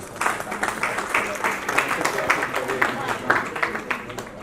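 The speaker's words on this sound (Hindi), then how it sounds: "तो जोरदार तालियां हो जाएं।" Audience applause at an awards summit and conference in a Delhi hotel, steady dense clapping that fills the room and holds at an even level throughout, with speech-like sound mixed in.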